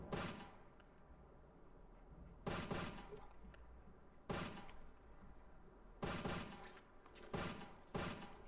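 Gunfire in the video game Fallout 4, five loud bursts of shots spaced about one to two seconds apart, each a sharp blast trailing off over a steady background rumble.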